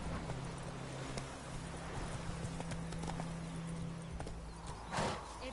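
Roach, a horse in the video game The Witcher 3, runs with steady clip-clop hoofbeats over a continuous low drone, close and moderately loud, ending in a brief louder burst.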